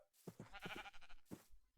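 A sheep in the Minecraft video game bleats a few times in short, wavering calls, quiet and clear with brief gaps between them.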